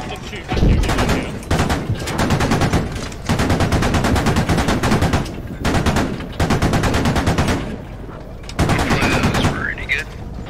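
A SAW machine gun in the video game Squad fires long, rapid automatic bursts, loud and close, with short pauses between them and a voice speaking during the gaps.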